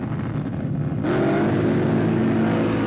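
Drag racing cars launch off the start line at the 1971 NHRA Winternationals. A steady engine drone suddenly swells into a loud, sustained roar as they pull away.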